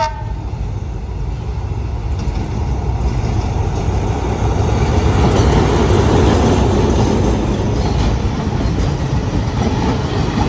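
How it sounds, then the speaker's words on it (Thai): Train 778 pulling into Surat Thani station in Thailand, a steady loud rumble of wheels and carriages that swells toward the middle, with a horn-like toot near the start. "ขบวน 778 กำลังเข้าสู่สถานีสุราษฎร์ธานี"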